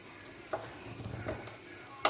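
Curry leaves fry in a hot pan with a soft, continuous sizzle, broken by a few light scraping stirs and a sharper clink near the end.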